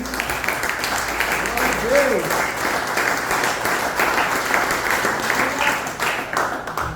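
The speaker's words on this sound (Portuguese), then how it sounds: "Vou ter um aplauso para Jesus." A church congregation applauds during a Portuguese-language service, loud continuous clapping from a crowd filling the room, with a voice heard briefly over it.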